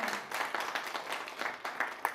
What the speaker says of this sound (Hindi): उनके लिए भी एक बार जोरदार तालियां हो जाएं।